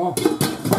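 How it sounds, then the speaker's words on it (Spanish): A lid set down over a pot of simmering pork loin with garlic, parsley and wine, giving a couple of short close clatters over a soft cooking hiss. "Ahora tapamos."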